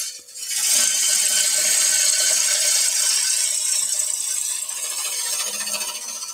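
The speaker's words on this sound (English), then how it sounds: "turn the lathe on. We're going to skim the surface." A wood lathe spins steadily while a gouge skims the face of a timber cheese platter blank, giving a loud, continuous high whirring rasp that holds nearly unchanged for several seconds at close range.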